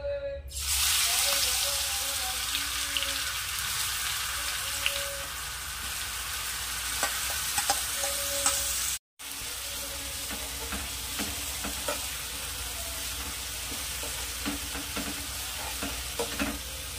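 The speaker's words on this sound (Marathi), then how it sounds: "आपण याला छान फ्राय करायचं आहे ना तेलामध्ये" Green chillies frying in hot oil for a spicy green chilli chutney, a steady dense sizzle with scattered pops and crackles, pausing briefly midway before resuming.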